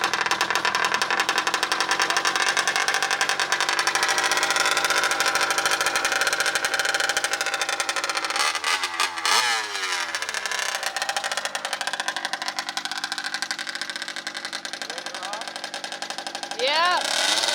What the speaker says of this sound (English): This is easily the loudest RC vehicle I have ever heard.